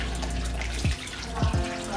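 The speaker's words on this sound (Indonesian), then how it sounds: "Kemudian bilas menggunakan air mengalir" Hands being rinsed under a running tap, a steady broadband wash of flowing water with a few brief splashing surges as the hands move through the stream.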